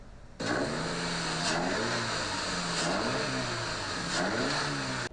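A car engine revs through an HKS closed-box cold air intake with twin intake ports, fitted to a GR86/BRZ, rising and falling in several sustained pulls, steady and close, moderately loud and fairly tasteful in tone.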